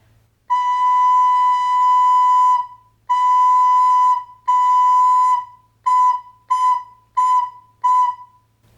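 Close, clear recorder practice exercise on a single pitch: one long whole note, then two half notes, then four short quarter notes, played alone with no talking.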